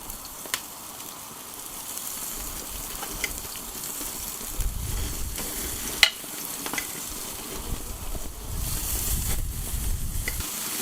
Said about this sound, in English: we're going to give them a quick sear from both sides